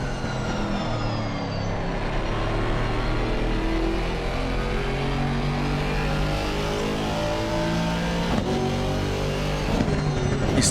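A Mercedes GT4 race car accelerates hard on the Barcelona circuit, its engine note loud and sustained, rising through the revs with a sharp shift or two near the end and no voices over it.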